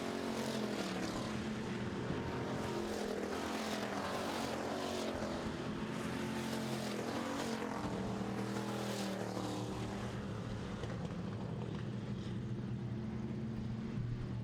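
Pure stock race cars roar down the back straightaway of a short oval track, engine drone steady and continuous throughout, with no talk over it.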